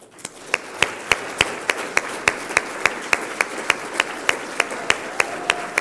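Hands clap in a steady rhythm at an HR awards gala as the award winners are honored, the claps sharp and evenly spaced over a soft crowd murmur, sounding like one or a few nearby people.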